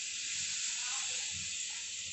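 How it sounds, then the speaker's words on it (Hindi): Cumin seeds sizzling in hot butter in a pan at the start of a shahi paneer recipe, a steady close hiss that holds evenly for the whole short stretch. "बटर में सबसे पहले डालेंगे हम जीरा"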